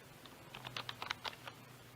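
Computer keyboard typing as a password is entered, a quick run of soft, close key clicks over a low hum.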